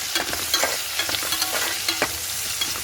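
Amaranth leaves fry in a pan and are stirred with a utensil, making a steady sizzle with soft, irregular scraping strokes, close and moderately quiet, with no talking.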